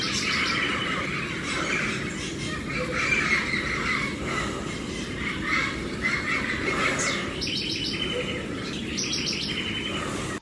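Several birds chirp, tweet and squawk together in a park, a busy, bright chorus of overlapping calls running steadily and fairly close throughout.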